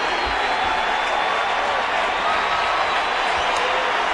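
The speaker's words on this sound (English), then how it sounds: "Nice applause for Rich Aurelia." A baseball crowd in the stands applauds player Rich Aurelia as he leaves for a pinch runner: a broad, steady wash of distant clapping and crowd noise that stays even throughout, with faint voices mixed in.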